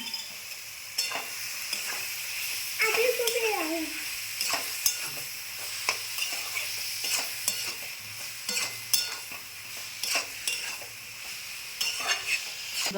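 Cabbage and potato with salt frying in a pan for a vegetarian cabbage ghonto, a quiet sizzle broken by repeated scraping and clinking as a spatula stirs, with a brief whistling tone early on.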